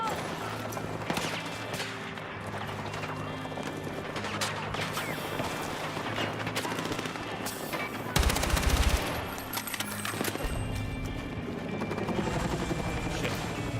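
Dense, continuous automatic gunfire and explosions fill a video game firefight, with bursts layered over loud action sounds and a heavy low boom near the middle.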